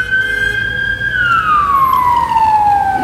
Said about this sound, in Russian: Сигналят, потому что скорая помощь едет, чтобы дорогу уступили.